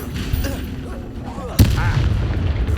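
Expulso explosion spell cast in the video game Hogwarts Legacy, a sudden loud blast about midway through that sits over steady game background noise and rumbles on after the hit.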